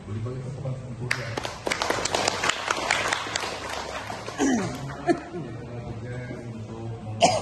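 A brief burst of clapping from a small crowd, scattered and moderately loud, fading after a few seconds as voices murmur.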